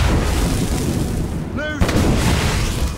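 Ship cannons fire in a naval battle in the video game Assassin's Creed Rogue, a loud sustained barrage of booms with a brief shouted call partway through.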